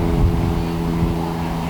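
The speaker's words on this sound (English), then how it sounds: "Passing airplane high overhead" A distant airplane passing high overhead on a beach walkway, a steady low rumbling drone with faint tonal hum, continuous and unchanging under ambient outdoor noise.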